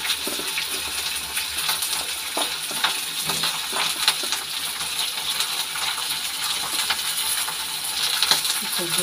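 Panch phoron spices and lentil vadi frying in hot oil in a home kitchen, a continuous crackling sizzle with scattered pops and occasional scraping stirs, close and moderately loud, with no voices.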